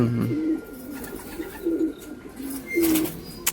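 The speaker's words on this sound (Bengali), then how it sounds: "এক বিঘতের পায়রা" Small pigeons of a tiny, hand-span-sized breed coo in repeated low rolling phrases nearby, with light rustling and a few sharp ticks in between.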